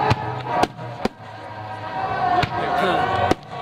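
Firework mine bursts at a 1996 Independence Day public fireworks display in Muskegon, several sharp booming reports at irregular intervals over a steady crackling wash, with crowd noise and voices talking throughout.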